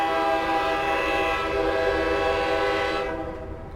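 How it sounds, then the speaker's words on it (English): A moving train in a video game rumbles with a harsh, sustained metallic clash and horn-like tones, loud and continuous before tapering off near the end, with no voices. "The rumble of the moving train mingles with a jarring clash of metal"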